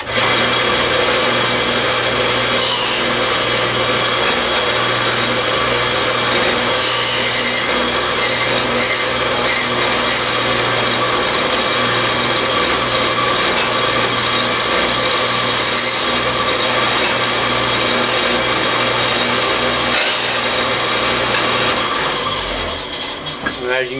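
Power saw cutting a dado through wooden end boards, a loud, steady whirring cut held for over twenty seconds before winding down at the end, alone without talk.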